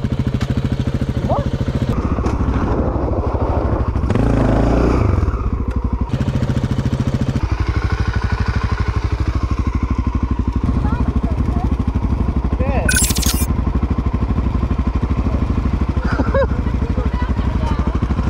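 A BMW R 1250 GS motorcycle engine runs steadily at close range, a low rumbling drone, with people talking over it.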